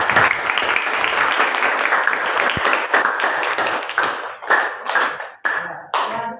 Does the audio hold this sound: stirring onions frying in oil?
no